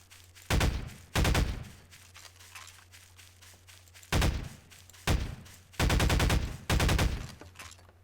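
Rapid bursts of launcher fire from the vase launcher in Garry's Mod, in five loud rattling volleys separated by pauses, with a steady low hum underneath.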